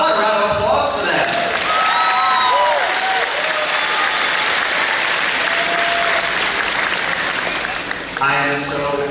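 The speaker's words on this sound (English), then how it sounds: "How about a round of applause for them?" A large audience at a 2025 middle school graduation ceremony in a hall applauding, loud sustained clapping and some cheering over several seconds, with a speaker's voice briefly at the start and end.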